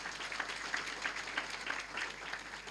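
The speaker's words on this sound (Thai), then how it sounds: "ปรบมือใดๆให้ขอบคุณอัพไลน์ของผมอีกสักครั้งหนึ่ งครับ" Soft, distant applause from a seated audience at a business seminar, a faint, even patter of many hands clapping that continues steadily without any speech.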